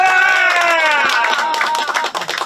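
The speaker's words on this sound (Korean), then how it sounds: "정진욱 정무특보가 힘을 낼 수 있도록 박수 한번 쳐주시기 바랍니다." At an outdoor rally in a public square during a solidarity hunger strike, an audience breaks into dense clapping that rises under a voice, fills the second half, and then thins out toward the end.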